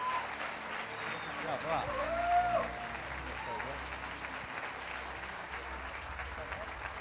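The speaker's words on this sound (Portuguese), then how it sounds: "Vamos receber o meu pastor com alegria, aplaudindo a Jesus." A church congregation claps to welcome the pastor, faint, even applause continuing throughout with a voice rising briefly above it partway through.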